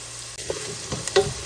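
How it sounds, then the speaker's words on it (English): Garlic hitting hot oil in a pan and getting stirred, a close soft sizzle with a few scraping stirs and little clicks of the utensil, quiet and brief with no voices. "I'm gonna go ahead and add in garlic."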